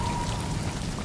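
Rain pours steadily in The Last of Us video game, a dense close hiss of drops on surfaces in a dark, tilted skyscraper setting, with no talk over it.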